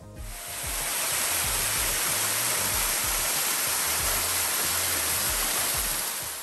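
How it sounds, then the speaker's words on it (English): Guide Falls waterfall in Tasmania, a steady loud rushing roar of falling water that fades in over the first second and then holds constant and close, with no voices. "Here, you can also enjoy the peaceful sound and the gentle mist of water."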